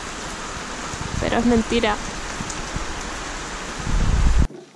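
Steady rain falls in Australia as a continuous hiss, while a brief voice speaks over it partway through and a louder rustle follows near the end.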